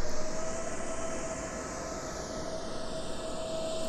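Simulated airliner jet engines in a Roblox flight simulator game, on a Swiss Airlines flight, power up for takeoff. A steady, moderately loud roar carries a thin whine that slowly shifts in pitch.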